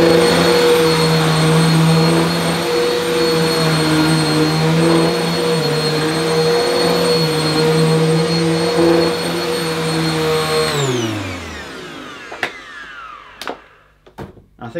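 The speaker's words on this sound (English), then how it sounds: "I might as well run this Samsung QuietJet around the carpet a bit, just to see how quiet it really is" A Samsung QuietJet upright vacuum cleaner runs loud and close on carpet with a steady jet-like whine, then winds down near the end, followed by a few sharp clicks and knocks.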